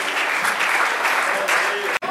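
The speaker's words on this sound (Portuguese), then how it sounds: "Aplauda o Senhor, igreja" An Assembleia de Deus church congregation in Sorocaba claps during a Santa Ceia service, a dense, sustained round of applause with a voice over it that cuts off abruptly near the end.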